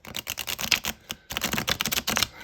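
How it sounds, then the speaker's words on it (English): Two quick riffle bursts from a coated Llewellyn Celtic Dragon tarot deck being shuffled, each a dense run of crisp card flutters split by a brief pause, close and clear. "That just makes that shuffle so darn satisfying."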